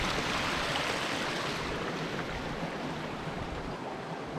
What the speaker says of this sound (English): it's almost clogged up the waterfall here with pebbles